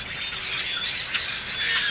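Flock of grackles, small blackbirds, squawking and chattering in continuous shrill, squeaky-hinge calls, fairly close and steady with no pauses.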